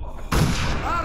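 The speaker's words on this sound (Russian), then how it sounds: "Артиллерия!" A sudden heavy blast of artillery fire booms in the video game Darkest of Days, hitting loud and close after a quieter moment, then rumbling on with sustained noise.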